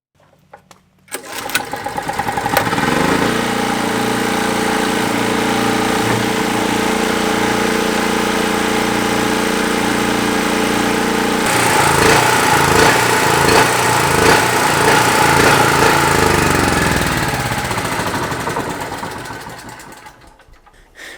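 A small portable generator engine, just reassembled after its carburetor was removed and cleaned, cranks and catches, then runs with a loud steady droning hum that rises in pitch partway through before winding down at the end.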